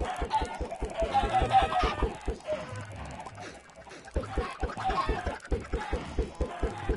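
Chickens in Minecraft cluck in repeated short bursts, several birds close by, with a pause midway before the clucking picks up again, and no talk.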